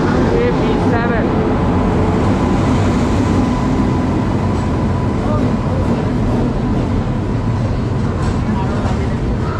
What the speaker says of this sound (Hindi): ट्रेन आ चुकी है प्लेटफॉर्म नंबर 1 पे और इसमें लोकोमोटिव है लालगुड़ा का